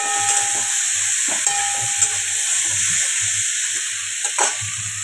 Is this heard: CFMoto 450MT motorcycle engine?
no